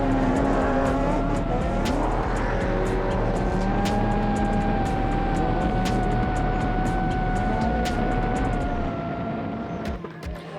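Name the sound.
off-road race vehicles racing, Nissan Supercharged V8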